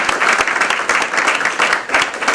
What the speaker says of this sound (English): really give a loud applause for our panelists